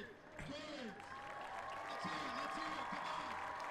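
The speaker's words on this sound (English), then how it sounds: "And the crowd giving a cheer for the late David Torrance." A stadium crowd at the 2019 HOKA Long Island Mile track race gives a sustained roar of cheering and applause, steady and broad throughout, with a commentator talking over it.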